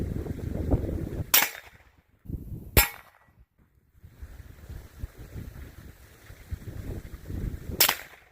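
Three sharp, muffled cracks from a 9mm firearm fitted with a Dead Air Wolfman suppressor, spaced irregularly outdoors, with wind rumble buffeting the microphone between shots.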